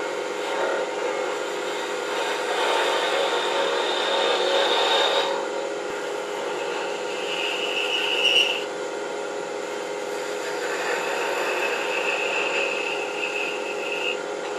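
A skew chisel cuts wood on a lathe while an apple-shaped box is being turned. It makes a continuous, fairly loud hiss with some rubbing, steady under the lathe's hum and briefly brightening in pitch, with no talking.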